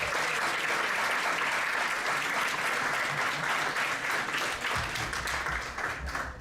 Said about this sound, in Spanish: yo os daría un aplauso a vosotros